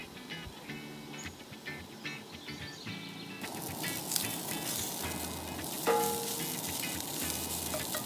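An egg frying in a pan over a campfire, with a soft steady sizzle that grows louder partway through, plus occasional scrapes and clinks outdoors.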